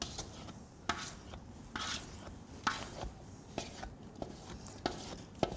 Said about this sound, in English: So just spooning it right in.